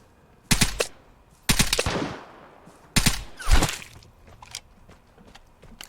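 A VSS rifle fires in the video game Vigor in three sharp bursts of shots about a second apart, each trailing off with a short echo.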